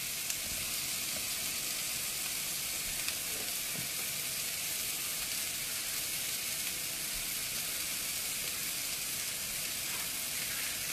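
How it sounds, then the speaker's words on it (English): Vegetables for a potato hash sizzle in a pan, a steady, moderately quiet frying hiss with a few faint clinks, and no speech. "those are starting to soften up, so in goes our next round of veggies"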